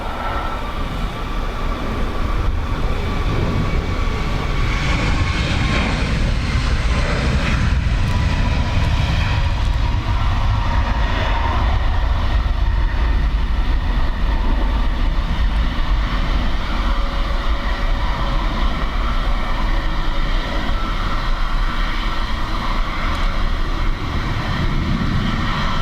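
A Ryanair airliner takes off on runway 10 right at Dublin Airport in strong crosswinds and wet weather, its engines producing a loud, sustained roar with wind rumble that holds steady for over twenty seconds.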